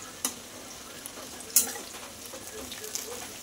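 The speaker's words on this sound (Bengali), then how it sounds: "দেখো এদিকে পটল ভাজা হচ্ছে" Pointed gourd (potol) pieces frying in a pan in a home kitchen: a faint, steady hiss of oil with a couple of sharp clinks or pops, quiet and close.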